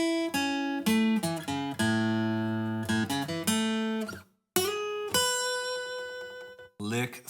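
Electric guitar plays the second lick of a song's solo, a run of bright picked and slid notes with sustained bends, briefly stopping near the middle before a second phrase rings out alone.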